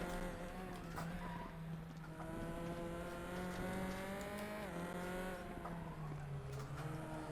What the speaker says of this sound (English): This thing really does like to slide around a lot.